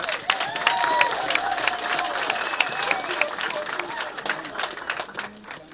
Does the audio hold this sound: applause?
yes